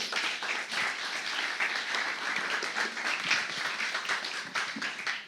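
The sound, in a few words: audience applause for panelists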